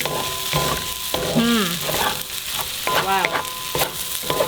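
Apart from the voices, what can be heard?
stirring pineapple fried rice with soy sauce in a wok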